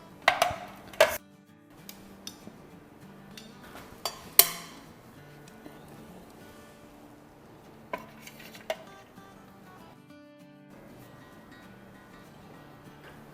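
Rajma and rice being served onto a plate: scattered clinks and scrapes of a serving spoon against steel dishes, with a few sharper knocks, fairly quiet and close, no talking.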